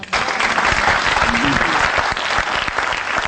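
A church congregation applauds loudly and continuously, a dense wash of clapping hands that fills the space without a break.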